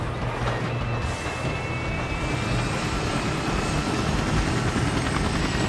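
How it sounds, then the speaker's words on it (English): A video game helicopter roars steadily and loudly close by, its broad rotor and engine wash holding the whole stretch with a faint high whine on top and no voices. "I'm in the chopper, coming your way."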